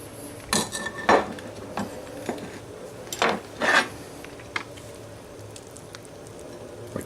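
Slices of pork tenderloin cooked with tomato and rosemary are placed into a dish with a utensil, several soft clinks and scrapes of metal on the dish spaced out over a few seconds in a quiet room.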